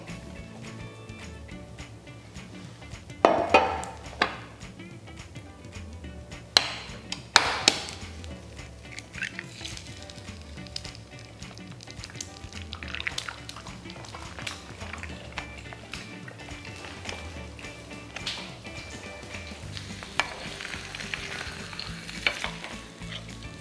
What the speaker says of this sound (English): Now I'm going to make sunny side up egg.